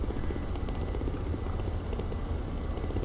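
A Ka-50 helicopter in the combat flight simulator DCS gives a steady, dense rotor and engine roar, loud and constant throughout with no talk.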